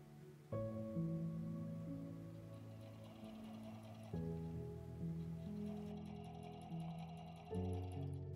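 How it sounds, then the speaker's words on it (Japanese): A sewing machine stitches two pieces of a tote bag together in steady humming runs, with brief pauses between stitching bursts. No voices are present. "最後にこの2つを縫ったらできますよ"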